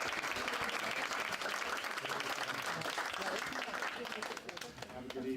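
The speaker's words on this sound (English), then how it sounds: "Round of applause." A room full of people applauding at the close of a long hearing, steady clapping throughout with some talk mixed in as it begins to fade.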